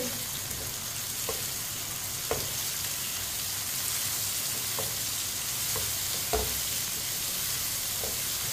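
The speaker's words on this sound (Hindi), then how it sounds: "टमाटर को भी 1 मिनट के लिए पका लेंगे।" Finely chopped tomato and green chillies cook in a pan with a steady, close sizzle, broken by a few sharp clicks of a spoon stirring against the pan.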